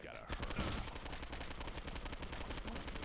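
Rapid gunfire from the video game Postal 2 Apocalypse Weekend, a dense sustained burst of shots crackling one after another with no pause, loud and busy throughout.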